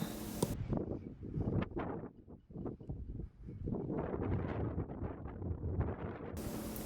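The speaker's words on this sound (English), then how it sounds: "It's just a little windy." Gusty wind buffets the microphone at Skagway Boat Harbor in Alaska, coming in uneven rumbling surges with rustling in between, moderately loud and with no talking.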